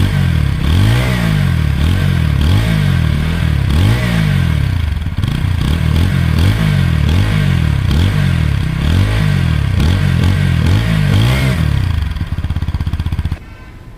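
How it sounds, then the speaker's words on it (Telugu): A TVS Apache RTR 160 4V BS6 motorcycle's exhaust is blipped in repeated revs, its loud, close engine note rising and falling in a steady pulsing rhythm for about thirteen seconds before cutting off abruptly. "ఒకసారి బైక్ ఎగ్జాస్ట్ సౌండ్ ఎలా ఉందో టెస్ట్ చేద్దాం గైస్"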